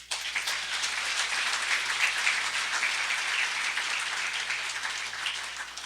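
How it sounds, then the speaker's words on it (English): Sustained applause from a conference audience at the LayerOne 2014 security event, a dense, even wash of clapping at moderate level that holds steady for several seconds without a break. "Big round of applause for them."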